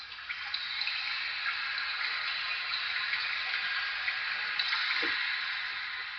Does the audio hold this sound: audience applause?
no